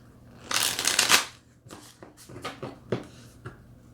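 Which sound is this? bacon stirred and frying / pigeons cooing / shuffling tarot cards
shuffling tarot cards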